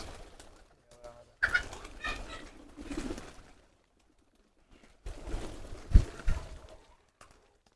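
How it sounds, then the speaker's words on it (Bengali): Pigeons coo and flutter nearby in two bursts of activity, separated by a quiet pause, as a pigeon coop lid is opened. "ঢাকনা খোলার সাথে সাথে যত কবুতর আছে সবগুলো"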